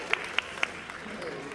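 Scattered claps from an audience greeting speakers at a university science festival event: three distinct sharp claps in the first moments, then a faint fading patter of applause.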